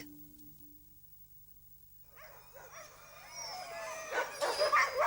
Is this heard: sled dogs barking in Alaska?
yes